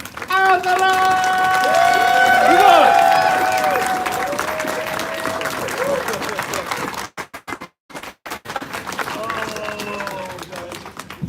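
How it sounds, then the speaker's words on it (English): A speaking voice over a convention crowd at a furry convention is followed by a burst of clapping, which fades into scattered applause and mixed noise. "give a round of applause"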